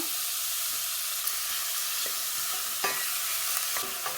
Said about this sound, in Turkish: Soğan iyice kavuralım.